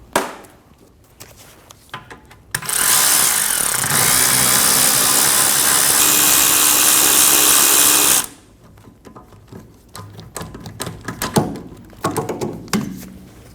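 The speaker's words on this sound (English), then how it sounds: "going to remove our 2 caliper bolts using a 14mm triple square. Break them both free before removing them." A power tool drives a 14mm triple-square bit to break loose the rear brake caliper bolts on a 2012–2022 Volkswagen Passat, giving one loud, steady whir of about five seconds. Clanks and handling noises come before and after it.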